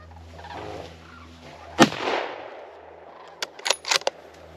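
Gunshots at a grizzly bear during a hunt ring outdoors: one sharp loud crack, then a quick cluster of several more shots a moment later, with faint background noise between.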